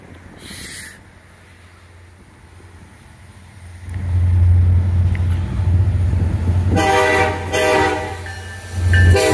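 A Conrail freight train led by an SD70 locomotive rolls past with a deep, building engine rumble, sounding loud, repeated horn blasts near the end.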